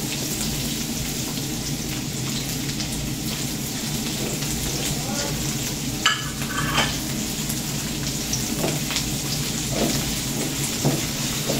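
Garlic and onion sautéing in a pan for lugaw with chicken, a steady rain-like hiss of oil broken by occasional clinks and stirring knocks, with a voice faintly in the background.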